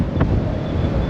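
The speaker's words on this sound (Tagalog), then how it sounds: "Ayan, super hangin. Ayan lakas ng hangin." Strong wind buffets the microphone aboard a ship transiting the Strait of Magellan off Chile at sunrise, a steady low roaring rumble with no speech throughout.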